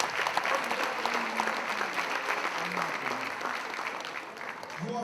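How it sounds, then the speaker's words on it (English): An audience at a 2019 career and technical education awards ceremony breaks into steady, dense applause that carries evenly through the whole stretch, with a few voices mixed into the clapping. "But I want everybody to give yourself a round of applause."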